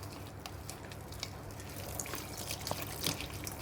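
Water trickling and splashing into a bowl of unniyappam dough, a soft continuous pour with small drips, close and fairly quiet, no voices.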